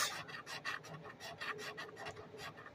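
A coin scrapes a lottery ticket in quick rhythmic strokes, a dry close-up rasping repeated steadily with no voices.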